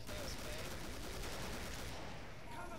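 Rapid, continuous AK rifle fire in the video game Killing Floor forms a dense, steady burst of gunshots that holds at a constant loudness throughout.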